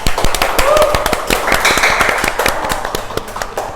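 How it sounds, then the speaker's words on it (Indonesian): A studio podcast audience gives a short burst of clapping, with dense, fast claps that taper off over a few seconds. "Tepuk tangan dong."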